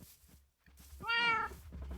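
A cat meows in the Minecraft video game, a single drawn-out, rising and falling game meow heard clearly and alone after a short pause.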